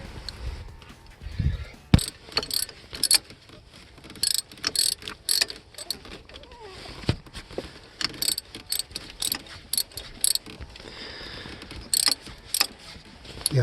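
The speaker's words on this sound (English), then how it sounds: "now I'm going to tighten these 2 bolts." Bolts on the EGR valve of a 1988 Ford Econoline E-150 being tightened with a ratchet, bursts of quick metallic clicking in irregular runs, close and moderately loud, with pauses between strokes.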